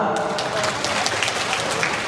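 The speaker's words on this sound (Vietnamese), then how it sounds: "Xin một tràng vỗ tay nữa được không ạ?" A crowd claps after a flute piece at a Hmong New Year cultural show, steady crowd applause with scattered sharper claps and some murmuring voices underneath.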